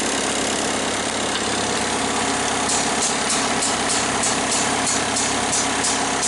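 A mini excavator engine idles steadily throughout, a continuous mid-to-low rumble with faint periodic ticking, loud and close with no talking.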